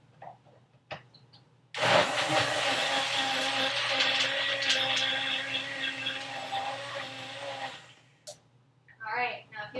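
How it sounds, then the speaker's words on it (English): A blender whirs loudly for about six seconds as it blends a chocolate cherry green smoothie, starting and stopping abruptly, with quieter kitchen sounds before and after. "Give that a little blend."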